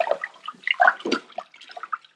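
Sona Masoori rice rinsed in water by hand with the palm as a filter, giving short, close, splashy swishes and trickles in quick bursts.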